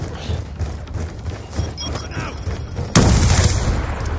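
Gunfire from a Call of Duty Black Ops 2 match plays as scattered shots and rapid bursts, with a louder, sharper volley of fire near the end and faint game sounds underneath.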